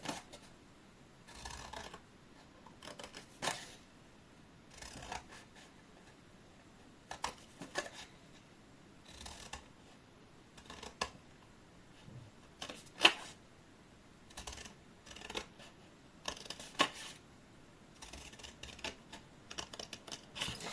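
Paper is folded and creased for a scrapbooking hexagonal box, with scattered soft taps, rustles and sharp pressing scrapes spread unevenly over a quiet background.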